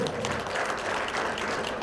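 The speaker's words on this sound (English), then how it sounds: "Can we please applaud him?" Audience applause at a national medical conference hall, a steady even wash of clapping lasting a couple of seconds with no voices over it.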